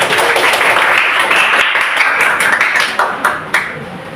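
Classroom students applauding together, a dense patter of claps that runs steadily and then thins into a few louder scattered claps near the end.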